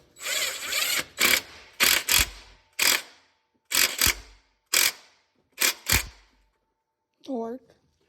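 Ratchet with a 16 mm socket tightening a bolt on an automatic serpentine belt tensioner in an old Hemi engine bay, heard as about eight short bursts of loud, close clicking in steady rhythm, followed by a brief voice at the end.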